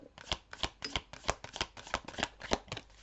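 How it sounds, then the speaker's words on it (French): Tarot cards are shuffled by hand in quick, rhythmic riffles and slaps, a dozen or so crisp bursts in close succession, near and alone with no voice. "je vais tirer toutes les cartes"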